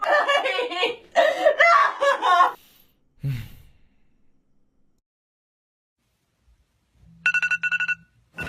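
Laughter and a sigh give way to silence, then a short electronic phone ringtone chirps briefly near the end.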